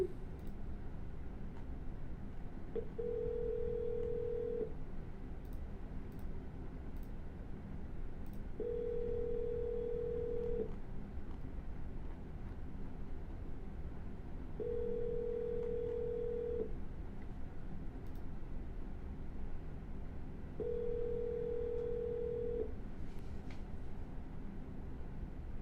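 Outgoing ringback tone on a cold call: four long, steady buzzing rings spaced evenly about six seconds apart, each lasting roughly two seconds, over a faint background hum with no voices.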